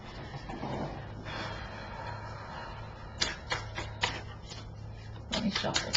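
Tarot cards being shuffled during a reading, with a run of sharp riffling bursts in the second half over a steady low hum and a faint murmur, close and moderately loud.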